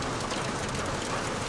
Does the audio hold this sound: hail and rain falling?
yes